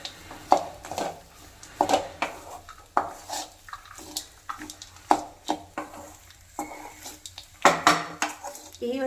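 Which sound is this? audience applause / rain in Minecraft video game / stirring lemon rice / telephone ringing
stirring lemon rice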